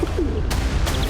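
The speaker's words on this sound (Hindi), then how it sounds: "एक कबूतर था।" A few soft, low coos from a pigeon at about 12,000 feet in a remote Himalayan area, over steady wind-like background noise, with two brief broadband bursts.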